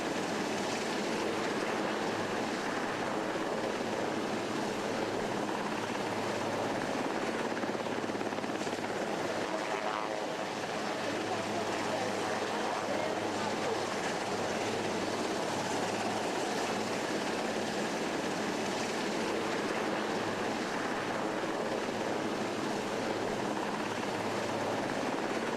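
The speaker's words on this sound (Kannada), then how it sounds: "ಚೇತಕ್ ಹೆಲಿಕಾಪ್ಟರ್ ಮೂಲಕ ಕರಾವಳಿ ಕಮಾಂಡೋಗಳು ನಡೆಸುವ ಪ್ರದರ್ಶನ" A Chetak helicopter flies over a coastal commando demonstration at an Indian Navy Day event, its rotor giving a loud, continuous thrumming roar that holds steady throughout, with no clear talk.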